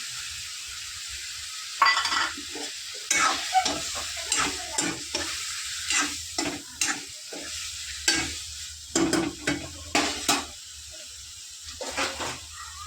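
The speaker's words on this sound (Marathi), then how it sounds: "आता आपण जी भिजवलेली डाळ होती ती टाकून देऊया भिजवलेली मुगाची डाळ आहे" Soaked moong dal is added to a hot pan for a ridge gourd vegetable dish and stirred, with a steady sizzling frying hiss under repeated close scraping strokes of a spoon against the pan.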